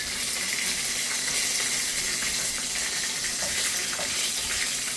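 Tap water runs steadily into a sink, a bright continuous splashing hiss while a hot frying pan is washed, with no talking.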